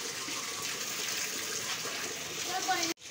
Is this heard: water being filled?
yes